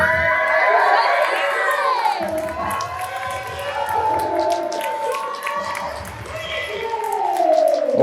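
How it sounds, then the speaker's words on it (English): A lively crowd at a wrestling student showcase cheers and shouts as a wrestler makes her entrance, a dense roar of voices and whoops that swells and dips, with some voices standing out nearby. "This crowd coming alive for Charlotte"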